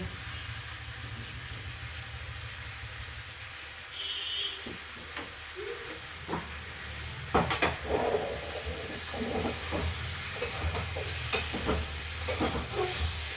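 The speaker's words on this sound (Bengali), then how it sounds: "ভালো করে আমি এটাকে কষিয়ে নিই" Fish and potatoes are stir-fried in a wok, giving a quiet, steady sizzle broken by scattered scrapes and clatters of the utensil against the pan.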